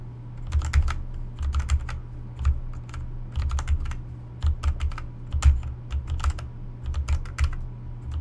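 Computer keyboard keys pressed in irregular bursts of clicks while playing the piano puzzle in Undertale, close and crisp, alone without talking.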